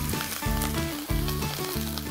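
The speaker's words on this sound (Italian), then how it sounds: "Li faccio rosolare per bene schiacciando anche le teste" Scampi shells and heads frying in extra-virgin olive oil in a large pan, a loud, close, continuous sizzle with rhythmic pressing and stirring pulses about every half second.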